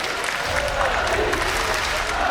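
A large esports crowd in Brussels cheers and applauds steadily for a League of Legends team after a defeat, a dense wash of clapping and voices at even loudness throughout.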